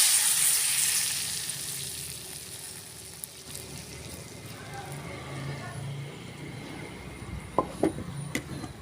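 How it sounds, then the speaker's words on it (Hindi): Cumin and chilli tadka poured into a pot of moong masoor dal gives a broad sizzle and frying hiss that gradually settles, with a few sharp pops and clinks near the end and a voice speaking faintly over it. "तड़का तैयार हो गया है और हम ये दाल के अंदर अपना तड़का डालेंगे"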